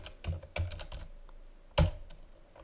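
Typing on a computer keyboard, a few soft, irregular key taps and one louder keystroke near the end, close and quiet with no talking.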